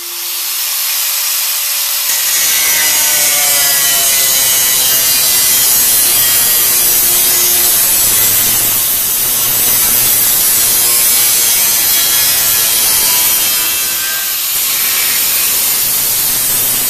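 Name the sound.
angle grinder with metal cutting wheel cutting car trunk floor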